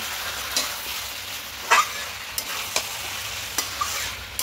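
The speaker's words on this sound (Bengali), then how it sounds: "এইভাবে মিশিয়ে আরও 2-3 মিনিট একটু ভালো করে কষিয়ে নেব" Chicken and about four spoons of whisked sour yogurt being stirred in a kadai over the flame, with a steady soft sizzle and hiss broken by scattered sharp scrapes and clinks of the spoon against the pan; no voices.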